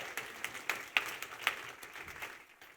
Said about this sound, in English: Everybody give Christy a big round of applause for helping out today